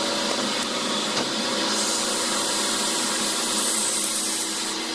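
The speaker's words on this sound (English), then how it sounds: "So that's this Marvel V10A machine, and we're going to let it cut the last pieces" A refurbished Marvel automatic vertical bandsaw cutting stock, giving a steady, loud, continuous grinding whine with a faint rasping texture, heard up close without any talking.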